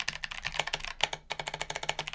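Fast typing on a Keychron K12 mechanical keyboard, with crisp, evenly paced key clacks up close and one brief pause partway through.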